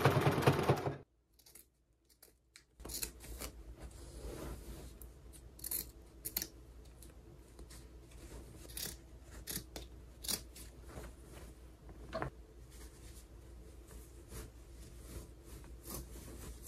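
Scissors snip through an old elastic band on a pair of thrifted shorts during a sewing upcycle, a string of short, close crisp cuts and rustles following an early burst of handling noise.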